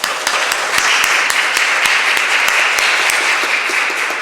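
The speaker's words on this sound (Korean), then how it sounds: "박수 올려드리도록 하겠습니다." Congregation applauding during a Korean church worship service, a dense steady wash of many hands clapping with a few sharper claps standing out, loud and sustained throughout.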